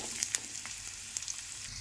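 Nalleru (Cissus quadrangularis) stems frying in a pan, giving a soft continuous sizzle with a few sharp pops and scrapes, close and steady, with no one talking.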